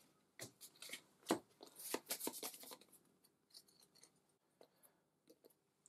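A small deck of MERV board game cards being shuffled by hand, quick clustered riffling snaps and light card slaps close up, tapering into a few scattered taps.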